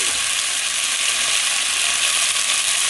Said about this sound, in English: I'm going to be stirring my onion